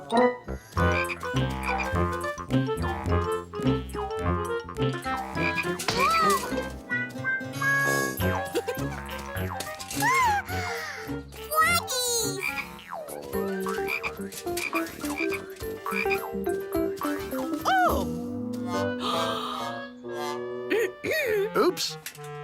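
Cartoon frogs croak repeatedly and loudly through a lively animated scene about rounding up frogs, their bouncy croaks mixed with playful music, jingles and splashy effects, while children and an adult talk and call out over them.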